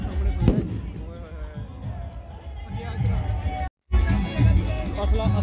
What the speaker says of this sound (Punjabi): ਪਟਾਕੇ ਚੈੱਕ ਕਰੋ ਓਏ ਘੁੰਮੇਗਾ